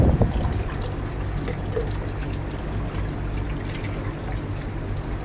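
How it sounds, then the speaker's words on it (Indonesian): Water poured into a container to hatch brine shrimp (artemia) as fish fry food, a steady close trickle and splash running without a break and alone. "Kita masuk air ni."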